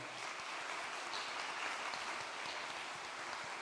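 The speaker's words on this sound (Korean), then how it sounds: "우리 수고하시는 교구장님들에게 다시 한번 좀 격려의 박수를 해드릴까요?" Steady applause from a church congregation, many hands clapping densely and continuously at a moderate distance, without pauses or voices.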